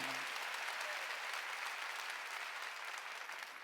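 A church congregation at a Wednesday worship service claps together in a dense, continuous wash of applause, fairly distant and steady, fading slightly at the end.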